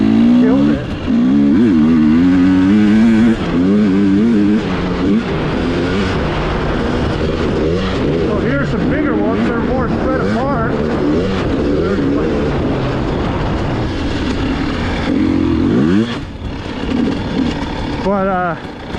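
A 2021 KTM 300 XCW TPI two-stroke dirt bike rides in sand, its engine revving and falling in wavering pitch under loud, continuous talk, with a brief surge of revs near the end.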